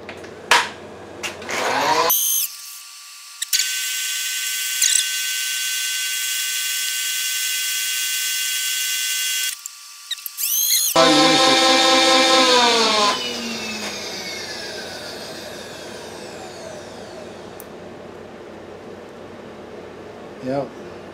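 A metal lathe takes a light spring cut on a ball turning attachment, a steady machining whine with a faint high tone that holds for several seconds, then a louder stretch of bright harmonic ringing that gradually fades out.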